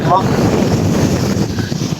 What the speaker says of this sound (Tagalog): Grabe nga hangin dito